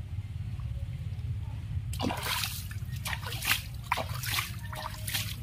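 Water splashes and sloshes in quick, uneven bursts as something is washed, starting abruptly after a couple of seconds and continuing close by over a low rumbling background.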